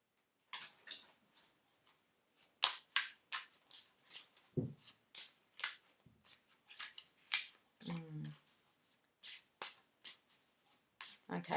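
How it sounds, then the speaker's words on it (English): A deck of chakra cards being shuffled by hand: a long run of quick, crisp riffling and sliding bursts in an irregular rhythm, close and fairly quiet, with a couple of short low thumps partway through. "Let's give these a shuffle."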